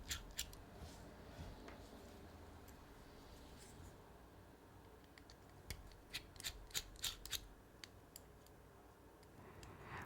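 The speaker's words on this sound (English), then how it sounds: "use a T6 that I have just laying out here. And let's go ahead and take the body screws out." A T6 Torx driver backs the body screws out of a Demko Shark Cub folding knife, giving sharp metallic ticks and clicks in scattered bursts. The sounds are close and faint over a low background hiss.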